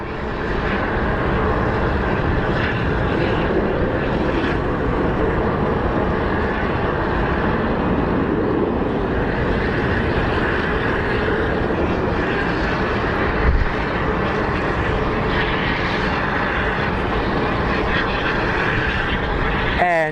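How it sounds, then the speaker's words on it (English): An Airbus airliner powers up at Sky Harbor International Airport in Phoenix, a steady loud jet engine roar filling the whole stretch, with faint voices mixed in under the drone. "you can hear that we have a plane powering on. That is an Airbus."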